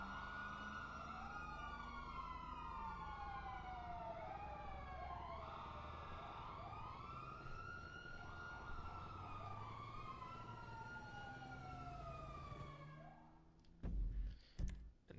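Several police car sirens wail and overlap continuously in GTA 5 Online, rising and falling in sweeping tones, before cutting off near the end into a few low thumps.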